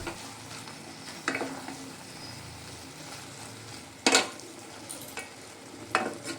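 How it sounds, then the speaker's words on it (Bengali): Chicken Maggi noodles stirred and fried dry in a pan, a low steady sizzle broken by a few sharp spatula scrapes against the pan, close and without talk. "এইভাবে নেড়ে নেড়ে আমি একদম চিকেন ম্যাগিটা শুকনো শুকনো করে নেব"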